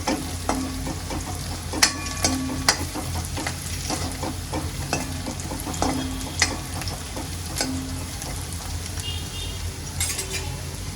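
Onions with asafoetida sauté in a pan, giving a steady sizzle under repeated scrapes and clinks of a spoon against the pan, with no talking.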